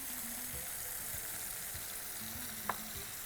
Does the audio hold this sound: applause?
no